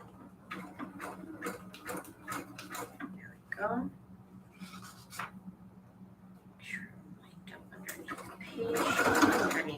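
A sewing machine stitches sunflower-themed junk journal pages in short whirring, ticking bursts separated by pauses, with a soft voice speaking between runs.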